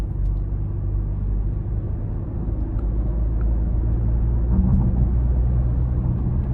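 A Porsche Macan T with a 2-liter turbo engine cruises under light throttle, a low, steady cabin rumble of engine and road noise with no talk.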